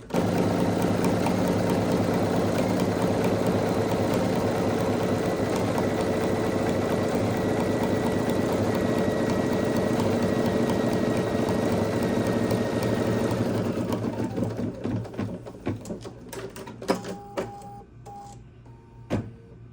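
An embroidery machine stitches a bag's lining in white thread, a steady, rapid mechanical chatter and motor hum running for about thirteen seconds before stopping, followed by scattered clicks and small clacks as it settles, with no talking.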